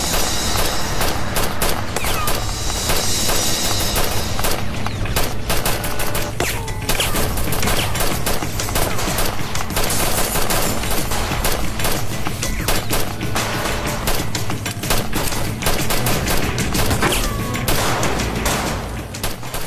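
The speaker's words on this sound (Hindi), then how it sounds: "वो बस पर गोलियां चला रहे हैं।" Sustained heavy gunfire aimed at a bus, dense rapid bursts of shots and cracks with occasional booms, loud and close, continuing without pause.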